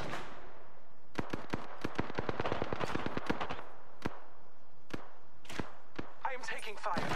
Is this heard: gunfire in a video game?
yes